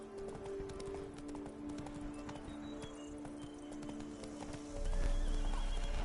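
Roach, Geralt's horse in The Witcher 3, gallops with steady rhythmic hoofbeats and snorts under a game music bed, and the sound grows louder toward the end.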